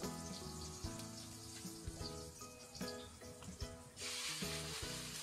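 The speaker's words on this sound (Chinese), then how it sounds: "油热以后，先下入一半的葱花蒜末，小火炸香" Minced scallion and garlic fry in hot vegetable oil over low heat, a close, busy sizzle and crackle with bursts of spattering and occasional stirring.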